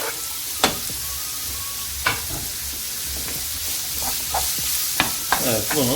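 Garlic and thinly sliced onions sauté for kadınbudu köfte, a steady close sizzle broken by several sharp clinks of stirring against the pan, with a brief bit of speech.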